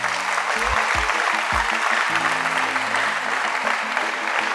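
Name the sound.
students clapping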